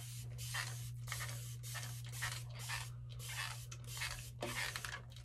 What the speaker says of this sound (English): We're gonna spray it in the front a bit with a little water.